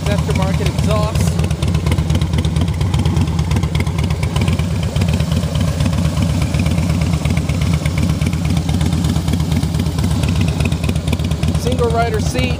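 A 2013 Harley-Davidson Softail Fat Boy Lo's 103 V-twin engine with aftermarket exhaust idles steadily throughout, a low rumbling throb that stays constant and fairly loud with no speech over it.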